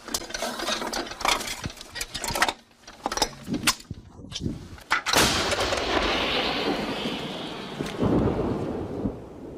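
A half-century-old Soviet-origin howitzer fires during fighting near the Oskil River in Ukraine, giving several heavy booms with rolling rumble between them and a sustained roar toward the end.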